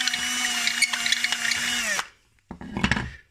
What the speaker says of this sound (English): So I'm going to run the 8mm drill through here.